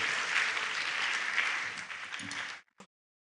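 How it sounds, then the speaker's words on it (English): A crowd at a university convocation lecture applauds steadily and fairly loudly for about two and a half seconds, then the clapping stops abruptly with one last stray clap. "A round of applause as Prof comes."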